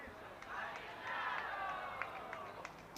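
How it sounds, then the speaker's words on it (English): Faint, distant cheering from a crowd at a rugby field near a T10 cricket ground, a low continuous hubbub with a few brief swells and sharp peaks under the ambient noise. "As we hear something going on in the background. A bit of cheering."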